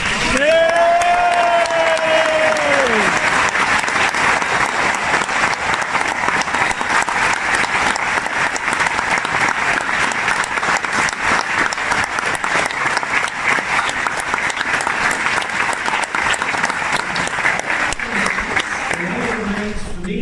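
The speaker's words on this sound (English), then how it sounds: "Please extend a very warm round of applause." A live comedy stage-show audience breaks into loud, sustained applause with some cheering, lasting about twenty seconds, and a voice comes in near the end.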